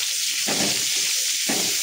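Onions frying in oil for an Odia fish curry give a constant loud sizzle, with two brief swells where the pan is stirred.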